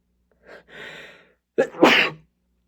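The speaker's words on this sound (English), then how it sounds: "I'm going to sneeze." A single person's sneeze, close and clear: a short indrawn breath, a pause, then a sharp burst, with silence around it.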